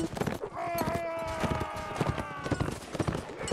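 Horses in the Napoleonic Wars video game clop along amid battle noise, with hoofbeats mixed under ongoing talk over voice chat.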